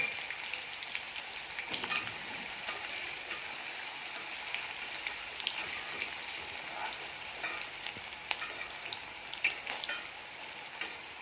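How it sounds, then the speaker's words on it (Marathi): Chopped onion frying in hot oil in a kadhai for Punjabi chole masala, a steady dense sizzle that runs throughout with occasional scrapes and stirs, close and fairly loud, with no talking. "आता आपण त्याच्यामध्ये कांदा टाकून घेऊया कांदा चांगला आपण भाजून घेणार आहोत"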